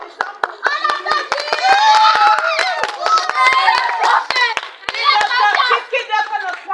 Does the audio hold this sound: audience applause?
yes